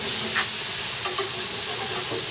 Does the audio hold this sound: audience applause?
no